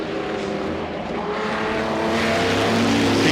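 Historic race cars at the Goodwood Revival roar past on the circuit near Woodcote, a loud, steady engine drone that swells slightly, with no talk over it.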